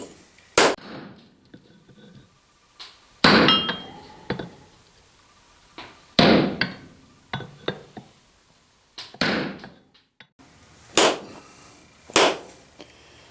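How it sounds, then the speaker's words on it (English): A blacksmith hammers a hot cut on a chisel edge, sending sharp, ringing metallic strikes in irregular single blows and short pairs with quiet gaps between them, close and clear with no talking. "Do a hot cut off on that chisel edge there."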